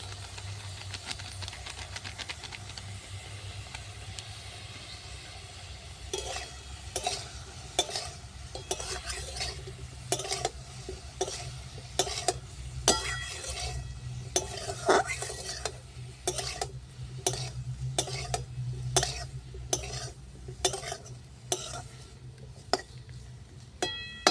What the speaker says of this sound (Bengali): ভেজে নেব ফুলকপিটা